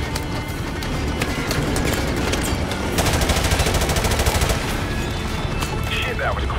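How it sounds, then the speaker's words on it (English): Dense, continuous gunfire in Call of Duty: Modern Warfare Remastered, a loud battlefield wash of overlapping automatic bursts with rapid crackling shots growing busier partway through. "Taking fire here."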